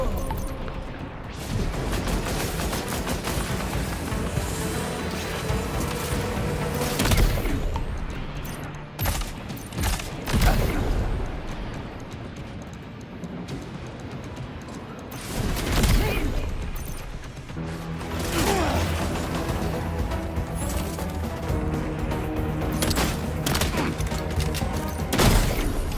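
A big machine gun in Death Stranding 2 fires in loud, dense bursts, with heavy thumps and crashes scattered through a chaotic firefight, and a voice talks intermittently throughout.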